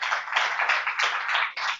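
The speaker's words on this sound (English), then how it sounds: "So we just applaud you again." People in an audience clap for panelists at an evening talk by young adults living with FASD, a brief burst of close, bright applause in uneven waves.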